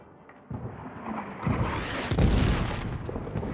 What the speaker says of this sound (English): The artillery seems to be getting much worse.